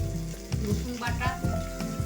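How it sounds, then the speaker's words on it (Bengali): Onion, cumin, green chili and garlic paste fry together in oil in a pan, giving a close, continuous sizzle with repeated scraping stirs at an uneven rhythm. "এগুলো একসাথে একটু ভেজে নেব।"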